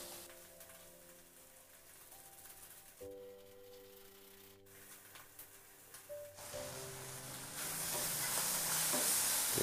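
Indomie goreng instant noodles with chili sauce and seasoning are stirred in a frying pan with soft scraping and light sizzling, growing louder toward the end, while a steady tonal hum plays underneath.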